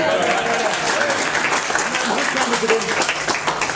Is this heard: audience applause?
yes